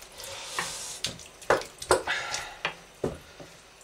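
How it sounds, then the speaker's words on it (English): Water from a can poured into a cooking pot of pork and bean pepperpot, coming as several short splashing bursts with brief pauses between them, fairly close. "another can of water. Add that in."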